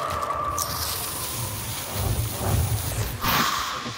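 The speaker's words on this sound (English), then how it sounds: "Thunder, actually." Thunder in the video game Hunt: Showdown, a low rumbling roll over steady rain-like hiss, swelling in the middle and cresting again near the end, moderately loud with no speech.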